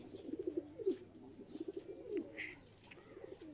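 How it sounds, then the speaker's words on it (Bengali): A young pigeon cooing close by, soft repeated throaty coos in short uneven bursts, quiet with faint background noise. "এই যে দেখেন বাচ্চা পায়রাটা যে ডাকে।"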